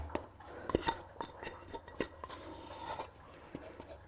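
A scraper tool dragging cinnamon roll dough out of an oiled bowl, with soft rasping scrapes and occasional sharp clicks and taps against the bowl, close and fairly quiet.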